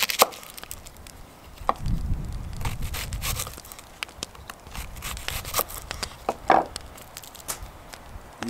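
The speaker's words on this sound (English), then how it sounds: "cut this onion." A knife cuts through an onion on a board, with sparse irregular chops and a short stretch of crunchy slicing, close and moderately loud.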